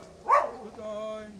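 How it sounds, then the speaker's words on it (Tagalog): A household dog gives a single sharp bark close by, with a brief whine-like tone trailing after it. "Nay, yung aso mo, Nay."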